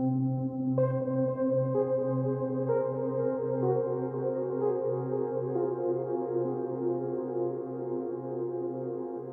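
A sustained synthesizer patch using the Infinite reverb preset from Colors for HALion Sonic plays layered tones that step upward in several entries, blooming into a long, smooth reverb wash with no voices.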